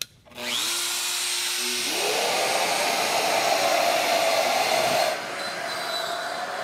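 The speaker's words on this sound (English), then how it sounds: "Shaper Origin, handheld CNC router for woodworking." Shaper Origin handheld CNC router spinning up and cutting a pocket in wood, a loud close whine that climbs in pitch and then holds a steady high drone through the cut.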